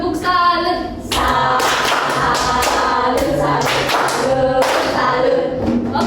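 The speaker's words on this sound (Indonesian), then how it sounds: "Oke, mulai tepuk salut." Elementary school class giving a rhythmic 'tepuk salut' group clap after a student's science presentation, loud and close, with bursts of chanting voices between the clap patterns.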